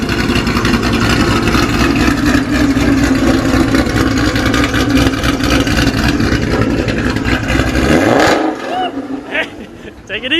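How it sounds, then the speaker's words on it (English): A Ford GT500 fitted with a Ford Racing axle-back exhaust rumbles loudly at idle up close, a deep burbling drone that drops off near the end; people talk over it. "Idle right off the bat sounds way better."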